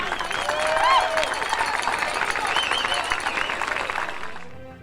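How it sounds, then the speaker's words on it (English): Spectators at a Chardon versus Willoughby South high school football game applaud the class of 2023, a broad continuous swell of clapping and cheering with scattered whoops that fades out at the end. "let's give a big round of applause for the class of 2023"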